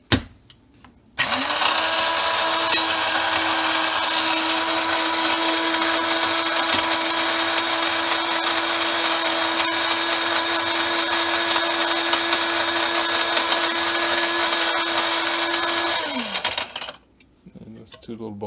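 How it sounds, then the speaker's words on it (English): An electric grinder powders natural remedy ingredients, a loud, steady motor whine running continuously for about fifteen seconds before spinning down, close up and alone. "So just grind a little bit more."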